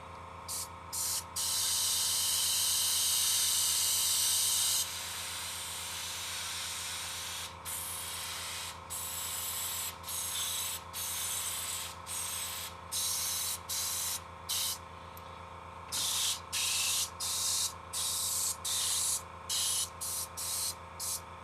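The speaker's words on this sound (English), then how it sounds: "So I'm using a no-name air compressor underneath my desk." An airbrush driven by a no-name air compressor under a desk sprays brown paint onto a 3D-printed Battlestar Galactica model, giving one long hiss followed by many short, rhythmic bursts of airy spray.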